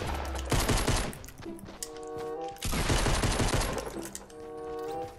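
Repeated bursts of rapid gunfire in a Fortnite match, loud and close, with two dense volleys separated by brief pauses and ringing tonal game effects, no talking.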